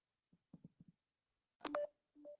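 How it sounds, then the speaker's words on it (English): A mobile phone goes off, giving a few soft tapping clicks and then a short burst of electronic alert tones, two brief beeps close by in an otherwise quiet room. "My phone is going off"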